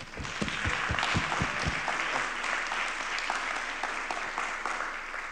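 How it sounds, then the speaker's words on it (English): An audience at the Oxford Generative AI Summit gives a keynote speaker a full round of applause. A dense, steady roar of many hands opens with a few sharp claps up front and carries on for several seconds. "Please give a big round of applause for Mounir Ibrahim."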